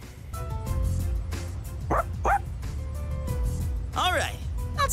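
A dog in the video game Persona 3 Reload gives a few short barks and whimpers, brief yips rising over steady background music and a voice speaking.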